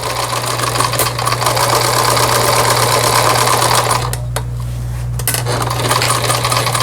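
A Singer Merritt sewing machine stitches with a swapped presser foot, a loud, close, steady mechanical whir and rapid needle clatter that briefly dips and changes tone partway through before resuming.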